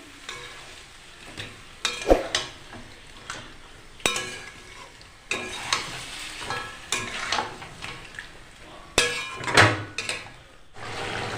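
Chicken being sautéed and stirred in mustard oil in a wok for biryani: a soft sizzle under repeated scraping and clinking spoon strokes against the pan, close and irregular.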